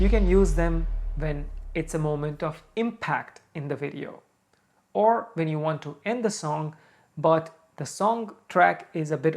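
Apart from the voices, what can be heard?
None of the usual background noises is heard.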